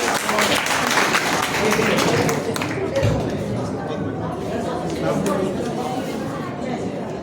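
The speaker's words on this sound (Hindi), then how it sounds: "एक बार जोरदार तालियां" Audience applause at a religious school gathering, a dense, steady wash of clapping from a crowd lasting several seconds with chatter mixed in.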